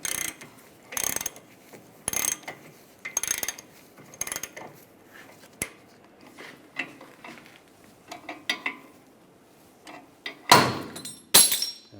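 Tightening the outer tie rod on a 2006-2009 Mercedes-Benz E350 produces a series of short, sharp clicking and ratcheting bursts at roughly one-second intervals, followed by a couple of louder metallic clanks near the end.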